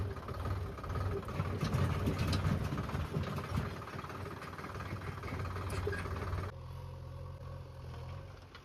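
A tractor engine idles steadily at a farm where manure is being loaded, a close, constant mid-pitched rumble with faint clatter that shifts to a lower, smoother drone near the end.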